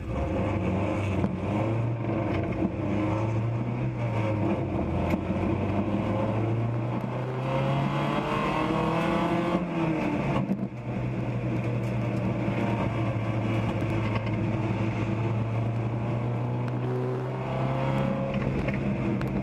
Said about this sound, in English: we're now riding along inside the number 234 Minions in Charge, 1995 Mazda Miata